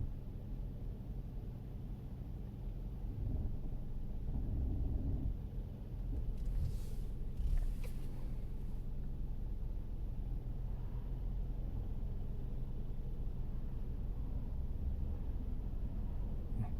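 Hyundai Sonata engine idling with a turbo device fitted, a steady low rumble heard from inside the car, quiet and even throughout with a faint brief hiss partway through.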